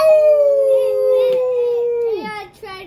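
People imitate wolves with a long sustained vocal howl that holds steady and then drops in pitch at the end, loud and close, with a second voice joining briefly.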